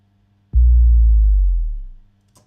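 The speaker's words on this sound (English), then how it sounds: "So if I solo the bass drops," A deep synthesized bass drop hits suddenly, a heavy low boom that sustains for over a second, then fades out smoothly into silence.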